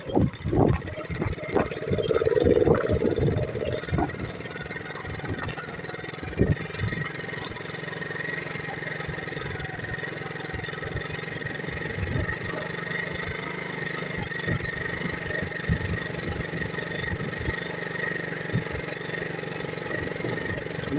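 A moped engine runs steadily in second gear while riding along a river on a spring fishing trip, a continuous droning hum with a whining tone, rougher knocks and rattles early on, close and moderately loud with no talk.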